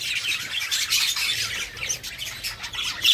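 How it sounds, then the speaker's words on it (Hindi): Budgerigars in a breeding aviary squawk and chirp continuously, a dense chorus of overlapping calls with a few sharper close cries standing out. "ये देखिए दोस्तों बजरी तोते बैठे हुए हैं सबके सब।"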